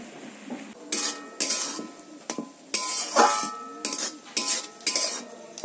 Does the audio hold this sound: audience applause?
no